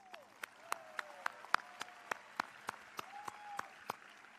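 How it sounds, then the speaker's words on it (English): A graduation audience at Auburn Mountainview High School applauds the school staff: sparse, distinct claps heard from a distance, fairly faint, each sharp crack standing apart as the applause trickles along. "Please join me in giving them a round of applause."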